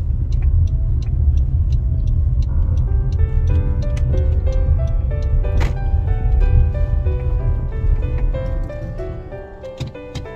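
A car climbs a steep mountain road between Nagan Raya and Aceh Tengah, its engine a steady, loud, low rumble throughout, overlaid by faint tonal sounds and ticks, fading slightly near the end.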